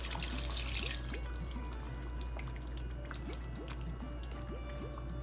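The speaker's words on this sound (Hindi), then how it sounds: "तो हम थोड़ा सा पानी और डालेंगे।" Water pours into a cooking pot of koftay curry with softened potatoes, a quiet gurgling stream with bubbling drips and rising filling tones over a low steady hum, heard close and faint.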